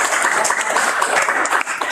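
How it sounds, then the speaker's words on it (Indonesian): An audience applauds after group presentations in a university teaching session. Steady, dense clapping at moderate distance fills the whole stretch with no voice over it. "Oke, kita beri aplaus lagi"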